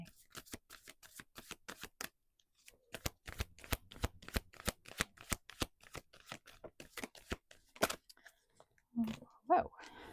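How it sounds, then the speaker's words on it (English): Tarot oracle cards being shuffled and handled in a quick run of crisp riffling snaps and flicks, close and fairly loud, with a brief pause partway through and a short bit of voice near the end. "Cards are literally falling out of my hands."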